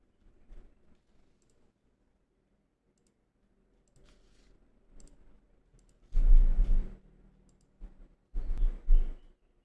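Keys being typed and a mouse clicking while an online registration form is filled in, with sparse faint taps followed by two louder bursts of rapid clattering near the end.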